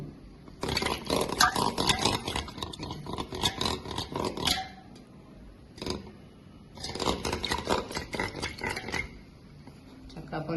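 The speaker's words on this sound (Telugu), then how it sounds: "ఇప్పుడు దీన్ని మనం కొంచెం గిలకొట్టుకున్నాం పెరుగుని." Curd is whisked with water in a bowl, giving two long bursts of rapid, close scraping and churning with a quieter gap between them.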